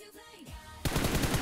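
Gunfire in the mobile battle royale game BGMI, a sudden loud burst of rapid automatic shots in an even rhythm after a quieter whooshing lead-in, close and without talk.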